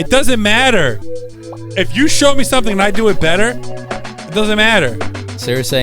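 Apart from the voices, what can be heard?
None of the usual background noises is heard.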